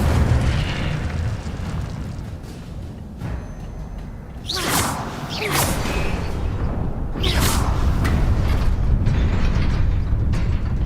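Incendio fire spells cast in Hogwarts Legacy, several bursting whooshes with fiery crackle rising over a steady mechanical game background, close and loud.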